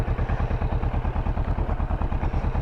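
A Vulcan 650 motorcycle eases away on the clutch with no throttle, its engine giving a close, loud, steady low pulsing thump at idle-like speed throughout.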